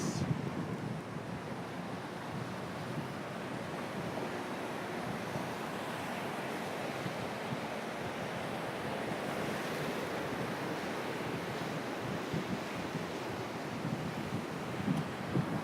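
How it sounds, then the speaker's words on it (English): Ocean waves surging and breaking onto a beach as whitecaps roll in, a steady, dense wash of surf with wind rumbling across the microphone, continuous and fairly loud with no voices. "like those waves out there"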